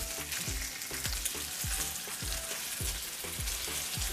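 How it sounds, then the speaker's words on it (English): Salmon fries in a pan with rosemary and garlic, giving a steady close sizzle with rhythmic stirring or scraping pulses throughout. "the fish is cooking this side also for 5 minutes"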